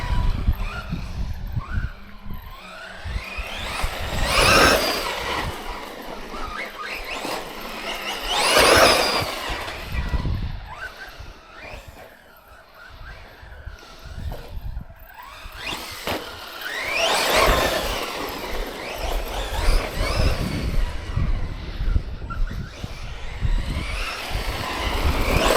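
A Tekno MT410 RC truck running a 4S motor whines as it speeds past, rising and falling in repeated passes, with tires squealing and skidding loudly through tight corners, alone with no talking.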